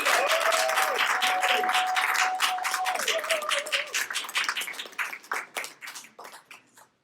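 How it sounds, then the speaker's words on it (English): Applause from a comedy night audience at a veterans' theatre show, dense and loud at first with a voice briefly rising above it, then thinning into scattered claps that fade out. "Clap it up for the next comedian."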